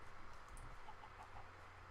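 Minecraft chicken giving short, faint clucks in a game scene, heard alone at a low level over a soft background hum.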